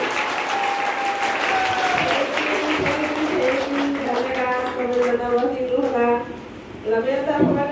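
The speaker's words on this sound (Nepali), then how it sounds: "जोरदार ताली" An indoor audience at a business programme claps in a dense, sustained burst, with a speaker talking over the applause throughout.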